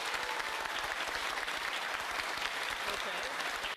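Studio audience breaks into sustained applause, a thick, even roar of clapping hands running throughout at moderate level, with no talk over it.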